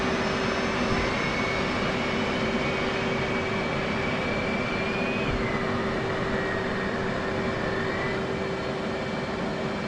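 F/A-18 jet engine spooling up in DCS World during a cockpit startup, a loud continuous roar with a steady tone and a rising whine, sustained without pause.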